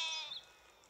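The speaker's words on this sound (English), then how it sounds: "a shepherd boy who tended to his flock of sheep at the foot of a mountain" Sheep bleat in a flock kept at the foot of a mountain near a forest; one short, faint, high bleat is heard early and fades.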